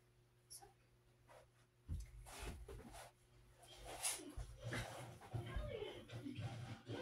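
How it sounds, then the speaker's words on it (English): A dog whimpers and gives small yips indoors in a bedroom while people talk over it, the quiet canine sounds coming in brief bursts between the voices. "That's a dog."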